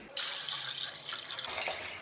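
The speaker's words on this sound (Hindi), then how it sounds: "और अब इसमें ऐड कर देंगे पानी।" Water pours into a pot of chickpeas (chana) seasoned with salt, ready for boiling for chana chaat; a steady, close splashing stream runs for about two seconds with no talk.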